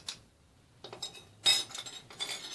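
Intermittent clinks and scrapes of a utensil against a bowl while yeast is mixed into flour for baba au rhum dough, several short bursts close by with quiet gaps between.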